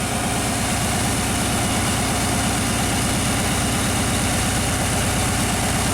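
A classic Chevy engine idles steadily while warming up near 1,000 RPM, a loud, even low rumble with a fast regular pulse and no pauses.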